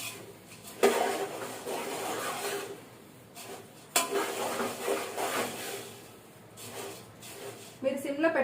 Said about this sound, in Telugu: మధ్యలో ఒకసారి ఇలా కలుపుతూ ఉండండి